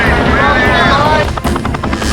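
Helicopters flying close overhead on a large action-movie set during filming, a loud continuous rotor roar with a steady beating texture throughout, with some talk mixed underneath.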